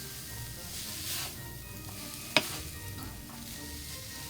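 Shrimp, chicken, broccoli and baby bok choy stir-fry in a pan, stirred with a spoon and fork: a continuous soft sizzle with scraping stirs and one sharp metallic clink partway through.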